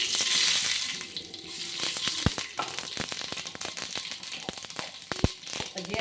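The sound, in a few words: tempering spices in oil for curd, sizzling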